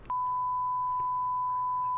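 A steady, pure electronic censor tone holds loud and unbroken for about two seconds, covering a spoken word, with no audible speech.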